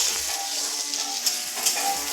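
Food fries in a pan with a soft, even sizzle and a couple of brief sharper crackles or scrapes near the end, close and moderately quiet, without speech.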